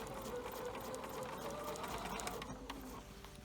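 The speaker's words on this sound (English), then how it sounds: "I'm going to sew slowly initially." A sewing machine running a slow, steady straight stitch to attach an elastic waistband to a dress, with a continuous close mechanical whir and no talking.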